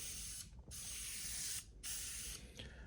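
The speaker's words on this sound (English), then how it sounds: "As you can see, this is spraying extremely well." Three hissing bursts of a Preval sprayer spraying paint, each lasting about a second with short pauses between, loud and close.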